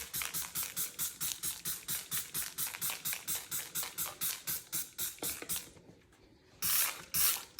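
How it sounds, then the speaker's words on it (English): Bathroom cleaner is squirted into a sink in a fast run of about twenty rhythmic spray pumps, then a pause and two longer hissing bursts, close and fairly quiet. "I just squirt it all in the sink."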